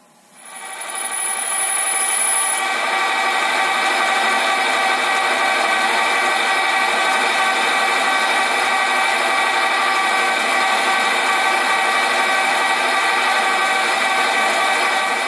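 Steady, loud drilling into a steam engine cylinder cover, with the drill held in the lathe tailstock: a continuous high metallic whine and cutting rasp that starts abruptly and holds unbroken for about fifteen seconds, with no talk.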